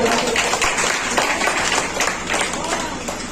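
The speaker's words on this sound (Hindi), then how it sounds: "ताली बजाओ" A crowd at a Bhagwat Katha religious gathering claps continuously in a dense, even wash of applause that stays loud throughout, with voices mixed in.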